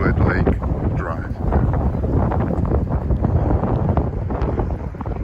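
Strong, steady wind buffets the microphone outdoors on a lakeside walking trail at Lake George in Katy, Texas, a continuous low roar with gusty surges, while a person talks over it.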